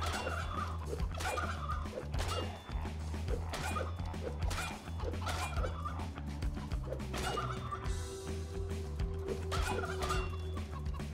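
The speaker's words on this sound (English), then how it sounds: "I'm a little concerned that the chickens sound like turkeys" Busy, overlapping clucks and squawks from video-game chickens that sound oddly like turkeys, repeated in quick irregular bursts alongside yips, at moderate volume.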